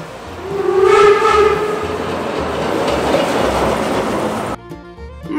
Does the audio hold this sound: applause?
no